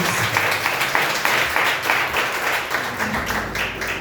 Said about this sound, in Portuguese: Receba o servo do Senhor com as palmas bem alegres